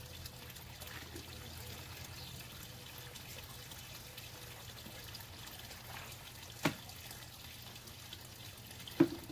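Water pours steadily into a backyard pond built from an old hot tub, a faint continuous trickle over a low hum, with two brief knocks near the end.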